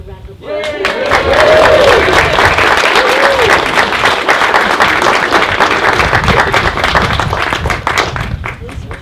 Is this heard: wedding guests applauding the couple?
yes